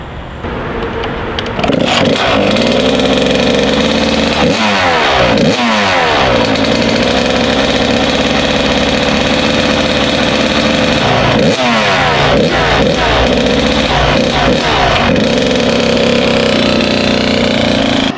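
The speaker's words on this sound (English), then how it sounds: "I'm going to bring her out onto the road now and put her up on the power band and see how she feels" A Kawasaki KX 85 dirt bike engine revs hard out on a road, loud and close, climbing and dropping through repeated throttle blips into its power band with sharp rises in pitch throughout.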